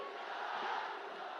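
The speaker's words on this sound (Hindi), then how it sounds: "हम सब जोरदार तालियों से हम लोग स्वागत करें" A large crowd at a Hajipur, Bihar election rally for Prime Minister Modi roars and cheers in a steady, dense wash of distant voices that lasts the whole moment without a break.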